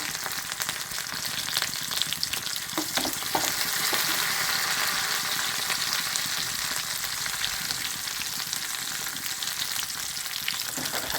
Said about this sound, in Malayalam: ഇനി എണ്ണ ചൂടായിട്ടുണ്ട്, നമ്മളതിലേക്ക് ഇട്ട് കൊടുക്കുകയാണ്